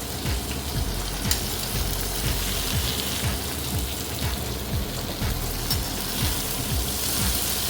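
Okra (lady finger) frying in oil gives off a steady, dense sizzling crackle, close and continuous, with no voices.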